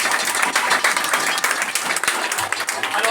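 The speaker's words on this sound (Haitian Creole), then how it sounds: "Applaudissez, mes amis." An audience at a gathering claps and applauds, a dense, loud, continuous patter of many hands that lasts throughout, with a few voices faintly mixed in.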